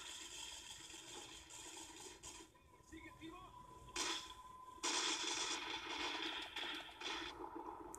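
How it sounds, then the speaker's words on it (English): Enemy gunfire in the video game Sniper Ghost Warrior, bursts of sharp shots and rattling fire in a few clusters amid ambient game sound. "He's shooting at us."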